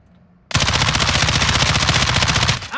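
Sustained rapid automatic fire from an assault rifle in Call of Duty Warzone, a loud, dense burst starting abruptly after a moment of quiet and running continuously for about two seconds before tailing off.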